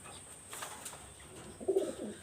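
Pakistani highflyer pigeons in a loft give a faint, soft coo near the end of a short, quiet stretch of low background hiss.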